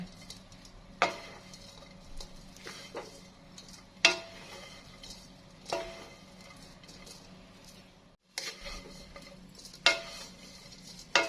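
Thin shredded pork stirred in a pan while being dried into pork floss: light scraping and tapping of the utensil against the pan bottom, irregular clicks over a faint sizzle, close and fairly quiet.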